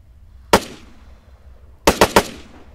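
Video game gunfire from a CAR-95 rifle in Arma 3: one sharp shot, a short pause, then a quick burst of three cracks, loud and close against a quiet low background.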